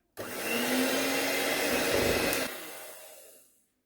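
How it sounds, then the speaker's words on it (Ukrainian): An electric hand mixer beats cake batter with flour for a honey spice cake, giving a steady close whir that starts abruptly, holds for about two seconds, then winds down and fades out. "І все це перебиваємо міксером"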